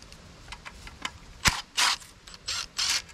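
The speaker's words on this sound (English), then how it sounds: "we gotta take our timing cover bolts off" Hand ratchet backing out 13 mm timing cover bolts on a high-mileage GM LQ4 LS V8 engine: several short clicking ratchet bursts, close and fairly loud, with quieter tool clinks between them.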